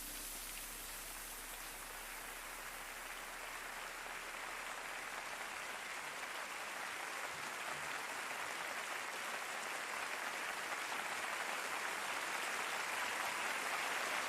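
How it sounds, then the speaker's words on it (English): In a Jujutsu Kaisen anime scene, the hiss of shower water hitting the ground blurs into dense, continuous clapping, a steady rain-like wash that grows slightly louder over fourteen seconds with no voices. "the sound of shower water hitting the ground and him turns into clapping"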